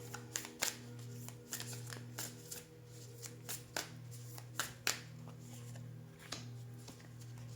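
Tarot cards are shuffled by hand for a reading, giving soft irregular riffles and taps close by, faint against a steady low background hum.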